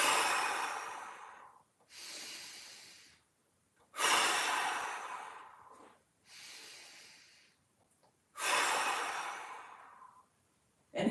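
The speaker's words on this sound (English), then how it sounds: "We're going to go 3 huge breaths." Three deep, slow breaths taken while holding a glute bridge during a mobility workout, each a loud close inhale-exhale cycle separated by short quiet pauses.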